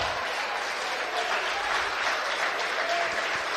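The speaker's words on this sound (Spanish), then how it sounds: "Si ese aplauso fue para Dios, déselo más fuerte" Church congregation applauding during a bilingual service, a dense, steady wash of many hands clapping at moderate distance that holds evenly throughout without pause.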